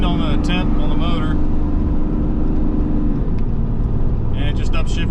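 Ram 3500 dually pickup towing a CAT 310 excavator, its engine droning loud and steady from inside the cab as the transmission upshifts, with someone talking over it at the start and end.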